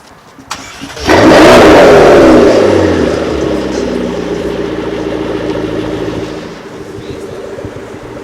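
A car with a factory sports exhaust fires up and revs hard, a loud roaring burst that settles into a steady, throaty idle rumble, sounding close and alone.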